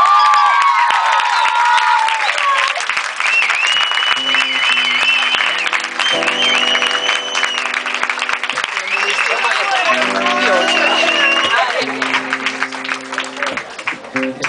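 Loud, sustained applause and cheering from a concert crowd at a tribute show, with whoops and shouts throughout, while a voice talks over it on a PA.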